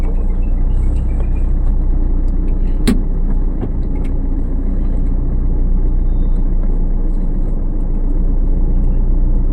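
A car engine running steadily during a driving lesson, a loud continuous low rumble that holds for the whole stretch, with a brief sharp click near the start.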